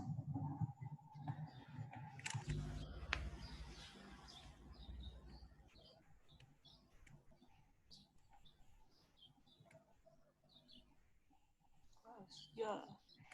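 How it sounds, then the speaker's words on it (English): Faint bird chirps and short tweets come from a distance, scattered through the clip, with a louder burst near the end under light background noise. "I can hear the bird chirping."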